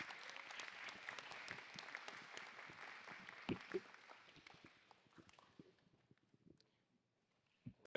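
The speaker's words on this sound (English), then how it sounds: "Give yourselves a round of applause." Parents and attendees at an evening school event give a round of applause that starts dense and loud, then thins and fades to a few scattered claps and near silence.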